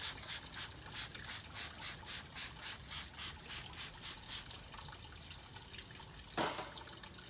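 Repeated pump-spray bursts from a handheld spray bottle misting a thrift-store glass mirror during a DIY antiqued mercury-glass makeover, a steady rhythmic run of short hissing spritzes up close, followed by one sharper isolated spray.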